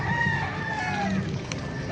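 Chickens clucking and a rooster crowing close by at a market in Bocaue, Philippines, layered calls overlapping for a couple of seconds against a background of farmyard noise.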